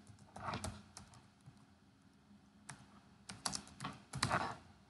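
Keys clatter on a computer keyboard as a pip install command is typed, in short quick bursts with pauses between, close and fairly quiet.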